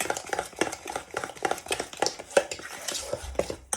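Rava cake batter with vanilla and salt being stirred and mixed in a bowl, with a steady run of close, light scraping and tapping strokes.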